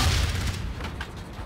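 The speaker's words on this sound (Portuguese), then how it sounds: "Vou tocar uma granada lá no meio." Grenade explosion in Call of Duty: Infinite Warfare, a single loud, deep boom that hits at once and fades over a second, with no talk.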